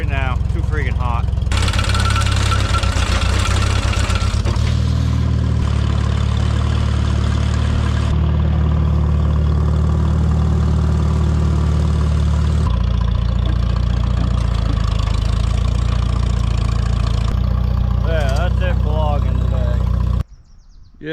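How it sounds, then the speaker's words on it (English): A tractor engine runs steadily at idle close by, a low continuous rumble with a few shifts in pitch, then cuts off abruptly at the end. "We'll fire up the tractor and pull these 2 out"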